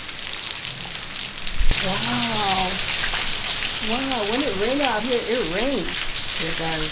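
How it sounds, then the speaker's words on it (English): A downpour outside a Florida villa keeps up a loud, steady patter and hiss of drops while a voice speaks over it in several bursts, with a single sharp knock partway through. "Wow, when it rained out here, it rained."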